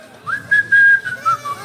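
A person whistles a short, wavering tune at a carnival street skit about a bank robbery, the notes close and clear in quick bursts with no talking.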